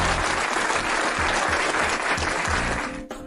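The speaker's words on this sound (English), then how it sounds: "Give Daryl a round of applause, y'all." A live audience at a sports talk show gives Daryl a round of loud, dense applause that carries on steadily and cuts off abruptly near the end.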